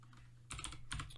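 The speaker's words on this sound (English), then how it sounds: "and I type" A computer keyboard clatters in two short bursts of rapid keystrokes, close and clear, while code is typed in Visual Studio Code.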